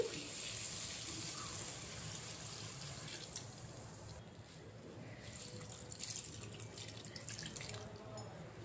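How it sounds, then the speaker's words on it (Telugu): Water poured into a pan of fried soya chunks, a faint continuous pouring and sizzling hiss heard up close without anyone talking. "దీంట్లో సరిపోయినంత వాటర్ కూడా వేసేసుకోవాలి."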